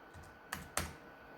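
Two crisp clicks of a cheap Alibaba computer keyboard, struck a quarter second apart, sharp and close over a faint steady hum.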